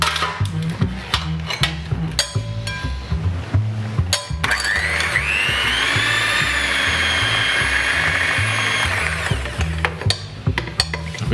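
An electric hand whisk beats eggs and sugar for an Italian homemade cake, its steady high motor whine starting mid-clip and holding for several seconds before cutting out, with clattering kitchen sounds before and after.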